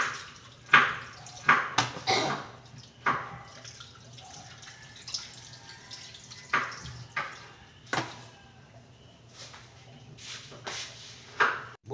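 Raw chicken is rinsed under running water for sinigang: irregular splashes and drips break over a low, steady water wash, close by and moderately quiet, with no talking.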